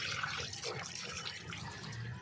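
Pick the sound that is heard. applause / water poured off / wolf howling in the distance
water poured off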